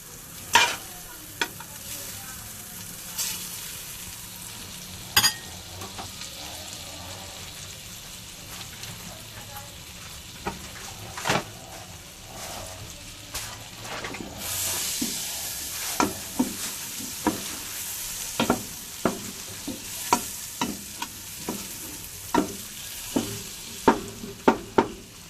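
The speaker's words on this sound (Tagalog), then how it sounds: "lalagay na po natin ang ating butter. I-melted natin siya or tutunawin natin siya." Butter melts and sizzles in a hot casserole pan with a soft, steady crackle. Sharp clicks and scrapes of stirring break in now and then, close and fairly quiet.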